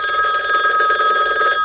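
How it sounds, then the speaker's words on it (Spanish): A landline telephone rings insistently at home, loud and close, with a rapid trilling bell that sounds continuously for just under two seconds. "en tu casa suena el teléfono insistentemente como lo estás escuchando ahora?"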